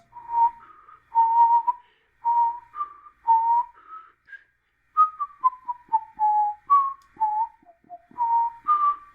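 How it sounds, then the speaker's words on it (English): People whistling the Jeopardy theme music, a clear melodic tune in short phrases with small gaps between them, close and alone with no talk. "go ahead and start whistling Jeopardy music"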